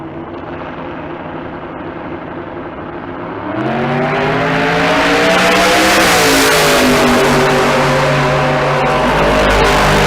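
A nitrous-assisted, LS-powered Pontiac G8 drag car launches and makes a pass at Bandimere, engine idling low before surging into a loud, sustained, rising roar that climbs through gear changes, alone without talk.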